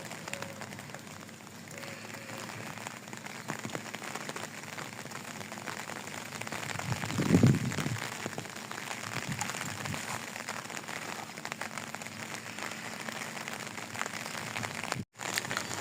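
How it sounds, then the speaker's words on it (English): Rain falls on the trees of a mulberry orchard, a soft, continuous patter that swells slightly midway, with no talking. "Rain begins to fall."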